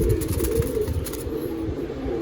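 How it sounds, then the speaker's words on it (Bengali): A Madrasi high-flying pigeon of an old Andhra bloodline with Pilanka eyes coos softly in a few low, close murmuring notes over faint background noise. "চোখেরই পায়রা আছে"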